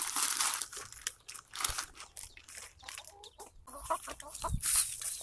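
Young chicks in a fenced pen cluck and peep in soft, close bursts, mixed with light rustling and crinkling, with no talking.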